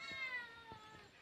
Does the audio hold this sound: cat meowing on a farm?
yes